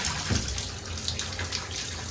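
Water running steadily from a Moen 1222 single-knob hot/cold faucet after valve replacement: a continuous close hiss and splash into the basin, even in level, with no talk over it.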